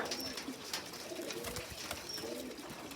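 Pigeons coo softly and repeatedly in low, rolling calls against a steady background hiss, with no voices.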